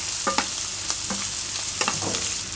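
Shrimp sizzle steadily in hot oil in a pan while a utensil scrapes and knocks against the metal in several quick stirring strokes, close up and without any talking.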